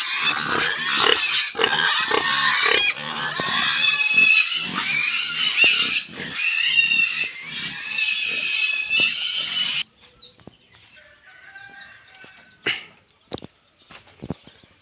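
Loud, dense pig grunts and squeals crowd together at a pig farm with local chickens, then drop away abruptly to quieter scattered clucks and faint farmyard noises.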